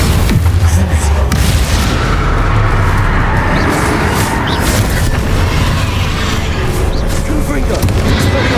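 Bombarda and Confringo spell explosions in Hogwarts Legacy, repeated deep booms and blasts rolling over a constant loud battle din, with voices in the mix.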